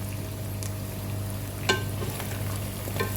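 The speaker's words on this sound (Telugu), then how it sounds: "చికెన్ వేగలే కరివేపాకు కొత్తిమీర కూడా వేగిపోద్దండి." Chicken fries in a pan with curry leaves and coriander, street-style spicy chicken, under a steady close sizzle with a few sharp crackles and pops.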